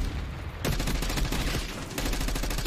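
Rapid, sustained gunfire from a multiplayer Black Ops 6 match on the Nuketown map, dense bursts filling the clip after a brief quieter start, loud and continuous with a short dip near the end.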